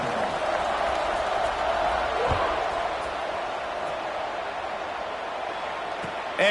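A stadium crowd at a Tennessee versus North Carolina college football game gives a steady, distant roar and cheer that holds at an even level throughout, broadband and dense, with a few faint thumps beneath it.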